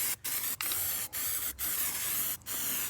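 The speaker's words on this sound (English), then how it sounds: "So I'm gonna go ahead and spray this one" Continuous hissing spray from a can of black spray paint in several long bursts, each separated by a brief pause, close and steady.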